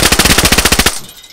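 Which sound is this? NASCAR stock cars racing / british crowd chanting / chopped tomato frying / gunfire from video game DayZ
gunfire from video game DayZ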